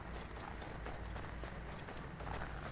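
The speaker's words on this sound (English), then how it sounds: "Está como en Assassin's Creed que hago y llega el caballo." Hoofbeats of a horse arriving in Assassin's Creed III, a steady clip-clop of galloping hooves, fairly close and continuous over a low rumble, with no talk.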